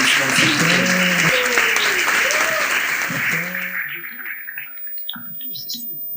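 An audience at a university eloquence contest quarterfinal gives a sustained round of applause to welcome a speaker, loud and dense, with a voice talking over it, before the clapping dies away into quieter speech.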